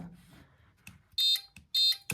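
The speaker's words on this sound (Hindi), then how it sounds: "तभी बजर हमारा बजे।" An air conditioner PCB's buzzer sounds in two loud, piercing electronic beeps in quick succession, each about a fifth of a second long, close up with short clicks around them.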